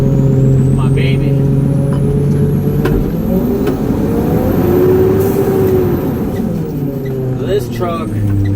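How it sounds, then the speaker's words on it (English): An aging truck on a route in Pueblo, Colorado, sluggish on takeoff, drives and accelerates with a steady rumbling engine drone and rising pitch, heard from the cab while someone talks over it. "This truck, it's not as fast on the takeoff as it used to be."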